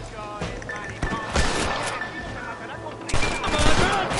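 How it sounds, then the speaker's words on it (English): Gunfire rings out in Red Dead Redemption, a spread of sharp cracks and a dense fusillade toward the end, mixed under shouting voices and ambient game sound. "They're shooting down on us!"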